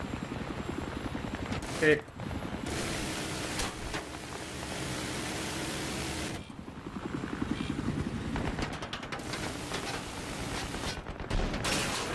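Helicopter flying in Battlefield 3, a steady broadband rotor and engine roar holding throughout under a brief spoken word, with scattered gunfire bursts and impacts cutting in.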